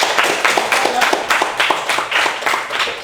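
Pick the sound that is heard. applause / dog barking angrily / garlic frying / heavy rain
applause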